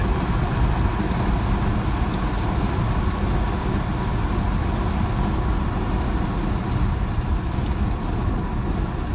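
A 1995 Mercedes-Benz E300 with the naturally aspirated OM606 diesel pulls hard under full throttle, a steady, loud drone of engine and road noise filling the whole stretch without pause or voices.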